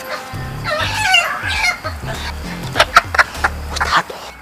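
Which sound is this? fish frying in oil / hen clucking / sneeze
hen clucking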